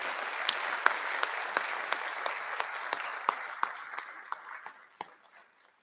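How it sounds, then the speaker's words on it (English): Audience applause at a high school senior recognition ceremony: a steady wash of clapping from a crowd with a few sharp individual claps standing out, sustained for several seconds before tapering off to silence. "Please join me in giving these individuals a huge round of applause."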